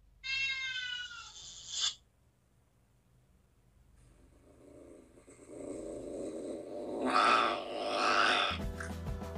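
A recorded cat sound played from a phone app gives a long, clear meow, followed by quiet, then a rising rumble and a burst of harsh, whiny yowling noise.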